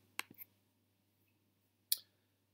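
A few quiet computer mouse clicks while working in the Fusion 360 menu, two quick clicks close together, then a pause and a single sharper click, heard alone in a silent room.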